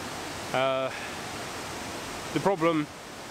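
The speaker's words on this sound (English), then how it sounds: "it's a really good waterfall" A river waterfall roars as a constant broadband rush, with someone speaking briefly over the steady water noise.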